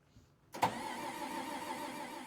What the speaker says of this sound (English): We found them literally trying to fire up the engine.